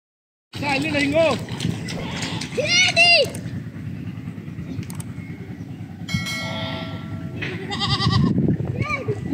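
Goats on the bank of the Teesta river bleat in several distinct wavering calls, some close and loud, mixed with people talking and a ringing bell-like tone in the background.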